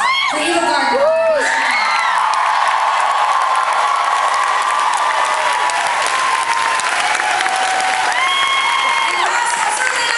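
Concert crowd at a rock show applauding and cheering for the bassist, a dense, loud wall of clapping with whoops and shouts rising and falling across the whole stretch, close and sustained.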